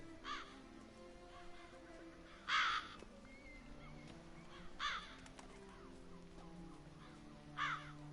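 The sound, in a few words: crows cawing in The Witcher 3 video game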